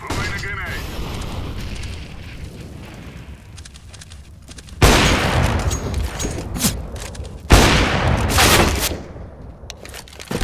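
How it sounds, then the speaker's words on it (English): Loud game explosions and gunfire in Counter-Strike: Global Offensive, two sharp booming grenade blasts a few seconds apart rising out of a rumbling firefight, with a voice speaking early on. "Deploying flashbang. Throwing a grenade."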